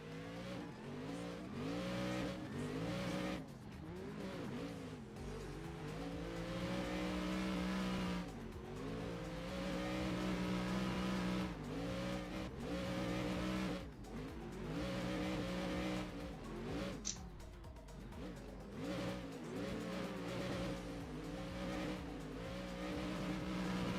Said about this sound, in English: There's some cars on this game sound terrible